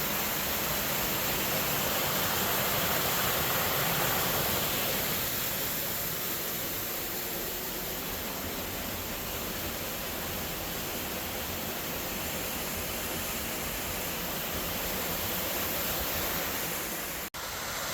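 A waterfall spills beside an 1890s copper mine adit on a rainy day, making an unbroken, loud rushing roar that holds steady throughout.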